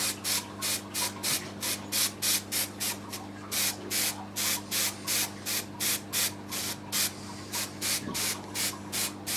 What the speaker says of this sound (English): I leave the spray mount on.